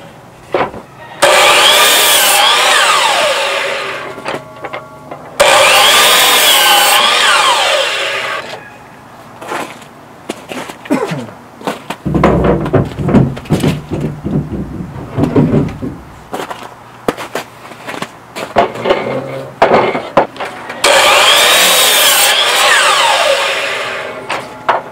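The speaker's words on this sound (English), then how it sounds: "I got my two straightest ones and I'm going to cut these ones down to 57 and 3 quarters of an inch." A saw cuts straight 2x4 wooden boards to length for concrete desktop forms, with three loud bursts of sawing, each roughly four seconds long. Quieter handling knocks and low thuds fill the gaps, and nobody speaks.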